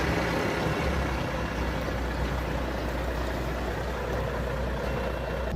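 Steady low rumble of an idling Volvo FMX 500 truck cab as the hill-start hold engages between brake and gas, a constant even drone throughout without distinct events or talk.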